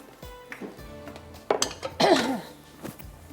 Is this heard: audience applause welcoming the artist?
no